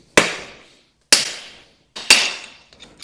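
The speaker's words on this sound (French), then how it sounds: "je vais mettre un petit coup de marteau avec le tournevis sur le côté pour le débloquer" Hammer tapping a screwdriver to free a stuck wheel part on a Dualtron Forever electric scooter, three sharp metallic strikes about a second apart, close and loud, each ringing out briefly before the next.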